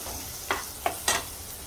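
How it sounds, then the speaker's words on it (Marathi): Ground masala dry-roasting over a very low flame for about ten minutes, stirred with a spoon: three soft scraping strokes spaced unevenly over a faint, steady sizzle, with no talk. "हा मसाला एकदम मंद आचेवरती आपल्याला एक दहा एक मिनिटं तरी भाजायचा आहे"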